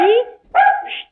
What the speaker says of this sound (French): J'ai un chien. C'est un petit chien, il s'appelle Bamba.